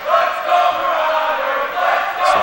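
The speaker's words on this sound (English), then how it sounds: "So crowd is roaring now for the Marauders." Crowd roaring at a high school football game in the Coal Bowl, a sustained loud wash of cheering voices that swells and holds throughout.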